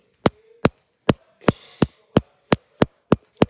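A hammer strikes a hard surface in about ten sharp, evenly spaced smacks, each a loud, short crack with brief silence between, close by and with no talk over it.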